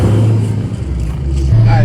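A Hellcat Charger with a loud exhaust rumbles deeply and swells in a short rev, heard close and heavy throughout the brief moment.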